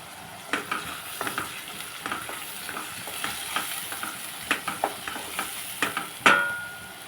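Crabs fry in a pan as salt and chili powder go in, giving a steady low sizzle broken by irregular scrapes and stirring clinks, one sharper knock near the end, with no one talking.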